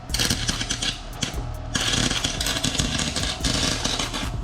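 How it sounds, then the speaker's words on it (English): Welding on a car exhaust for a BMW E36 328i, running without shielding gas, gives a harsh, loud, crackling buzz in uneven bursts with short pauses, close and dominant. "I'm gonna weld the best we can right now."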